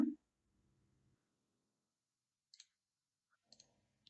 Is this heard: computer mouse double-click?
yes